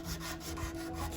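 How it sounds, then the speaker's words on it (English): Sandpaper rubs back and forth on a small N scale model train part in quick, steady strokes, a close, quiet scratchy rasp. "So definitely sandpaper is number one for this project."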